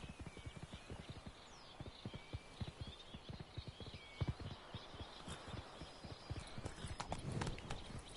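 Roach, the horse in The Witcher 3, trots with a steady, rhythmic clip-clop of hooves, near and fairly clear, with faint birdsong in the background.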